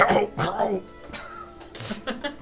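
A voice imitates wet, gurgling coughing and hacking in short bursts, close and fairly loud.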